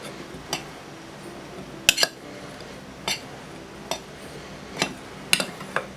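A metal spoon scoops flour into a sifter while making angel food cake, giving a few sparse, light clinks and scrapes against metal, close and fairly quiet, spaced about a second apart.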